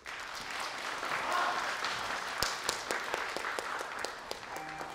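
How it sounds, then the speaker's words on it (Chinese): An audience applauds as a contestant in a white qipao is welcomed onstage at a pageant, a sustained wash of clapping from a sizable crowd with some individual claps standing out near the mic. "让我们掌声有请91号吕寒芝小姐闪亮登场"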